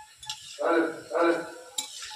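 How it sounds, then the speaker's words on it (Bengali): Modan kotkoti sweets frying over a low flame while a utensil stirs them in a pan: two broad scraping sweeps with light clinks and a soft sizzle underneath. "এরকম করে বারবার নাড়াচাড়া করতে হবে, তাহলে একদিক পুড়ে যাবে না, ভালো ভাজা হবে"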